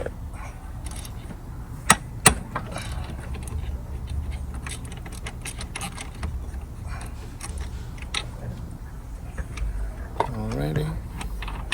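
A ratchet with a 10mm socket loosening EGR bolts on a 2011 Ford Escape 3.0 V6, sharp metallic clicks and clacks in irregular bursts, close up, with someone talking over the work.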